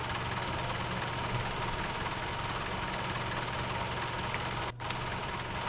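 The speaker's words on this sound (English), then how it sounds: "So we've got the mixer on, the hand throttle's up. Can hear it working away." A tractor-driven feed mixer running in Farming Simulator 17 with the hand throttle raised, a steady droning engine hum with a dense mechanical rumble, continuous and unchanging apart from one brief dip near the end.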